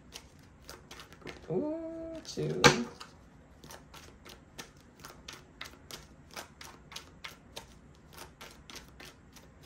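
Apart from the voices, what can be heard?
shuffling tarot cards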